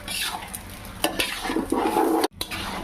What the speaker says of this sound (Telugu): ఇది ఇప్పుడు మనం గ్రైండ్ చేసి పెట్టుకున్న మసాలా ఉంది కదా అదైతే ఇప్పుడు దీంట్లో వేసేస్తాం మొత్తం ఇప్పుడు దీన్ని కలుపుకుందాం ఒకసారి